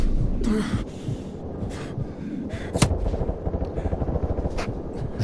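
Gunfire from a Call of Duty Modern Warfare Remastered campaign battle comes as loud, dense bursts of shots and artillery-like thumps over a continuous rumbling war backdrop.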